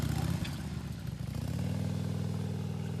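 Nearby Harley-Davidson motorcycle engine with a lumpy, pulsing idle that rises to a steady rhythmic throb, fairly quiet and outdoors.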